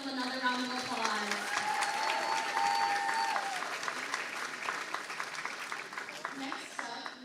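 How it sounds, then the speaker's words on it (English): An audience at a university Asian American and Asian Studies major inauguration gives steady, dense applause after a dance performance. The clapping runs continuously for several seconds, with some crowd voices mixed in. "Let's give them another round of applause."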